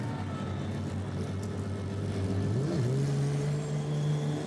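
A GT race car rolls slowly down the pit lane at a motorsport event, its engine droning steadily with a rising pitch shift midway, continuous and fairly close.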